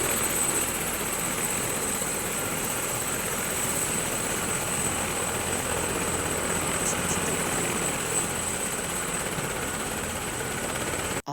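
Police helicopter flying on air surveillance over Lagos State, a steady loud rotor and engine roar holding constant without a break, close and continuous.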